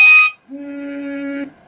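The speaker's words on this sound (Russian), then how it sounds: "Тип сигнала, рингтон" A bright electronic ringtone from an Alcatel 2053D phone: a short high warbling burst, a brief pause, then a sustained two-tone melodic note lasting about a second, loud and close.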